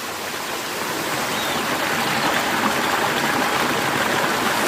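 A mountain spring stream on Madeira flows in a steady, loud, close rush of water, alone without talking.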